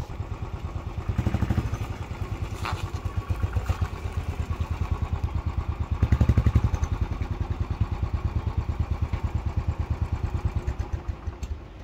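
A motorcycle on a mountain road near Old Manali, its single-cylinder engine chugging in a steady close thump, rising and easing with the throttle and a few louder surges.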